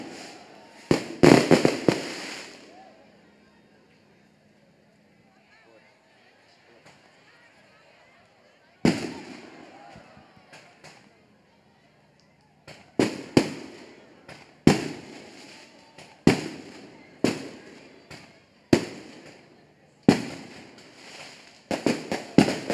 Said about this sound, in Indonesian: pembakaran kembang api